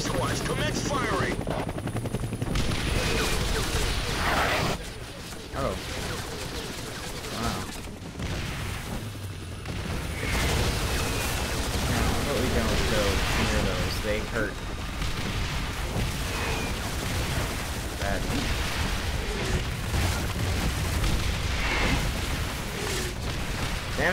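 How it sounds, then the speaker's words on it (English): Artillery firing in X-Men Origins: Wolverine, heavy booms and blasts under a loud, continuous helicopter rotor drone, with voices talking over the noise. "All artillery squads, commence firing!"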